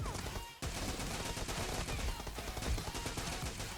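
Rapid bursts of gunfire from the mobile shooter PUBG Mobile in a team deathmatch, loud and dense, running almost without pause after a brief gap near the start.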